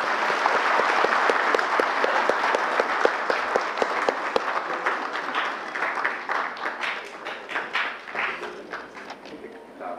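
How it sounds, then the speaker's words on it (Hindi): An indoor audience at a welcoming ceremony for guests gives loud, sustained applause, dense clapping from many hands that thins slightly toward the end. "जोरदार तालियों के साथ उनका स्वागत करें।"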